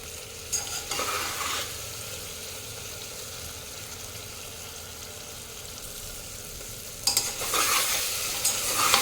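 A spatula stirs mutton that is frying in a pressure cooker with a steady low sizzle. Two bursts of metallic scraping stand out, one near the start and a longer one near the end.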